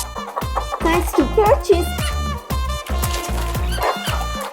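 Hens cluck and call inside a laying barn, their short, busy sounds set beneath a narrator's voice and background music.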